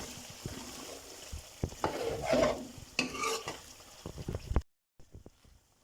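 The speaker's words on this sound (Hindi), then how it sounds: "अब इसमें डालेंगे दही।" Yogurt is stirred into chicken korma frying in a pan, giving wet scraping and spoon clatter over a soft sizzle for several seconds before stopping abruptly, followed by a few faint taps.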